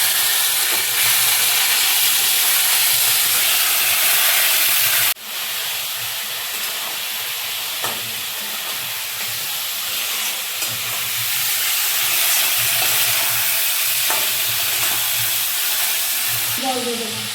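Water poured into a hot pan while cooking boal fish curry sets off a loud, continuous sizzling hiss with a sudden dip partway through, then steady bubbling and hissing close by.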